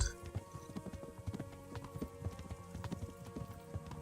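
Horse hooves clopping in a steady galloping rhythm while riding in Kingdom Come: Deliverance, moderately loud and continuous with faint ambient game sounds behind.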